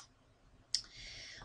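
A single crisp computer mouse click sounds close by in a quiet room, followed by a faint soft hiss.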